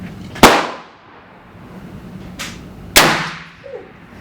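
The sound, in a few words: Thompson Center Hawken muzzleloader rifle shot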